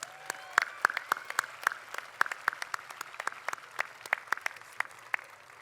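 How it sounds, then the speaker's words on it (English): An audience at a 2019 Santa Monica College graduation ceremony claps in a steady burst of applause, crisp individual claps overlapping throughout with no voices over it. "Let's give them a round of applause."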